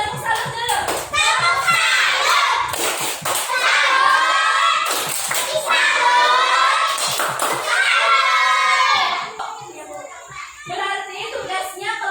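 Schoolchildren perform a tepuk salut clapping routine in a classroom, chanting together loudly in rhythm with sharp bursts of group clapping, ending in a short trailing clap.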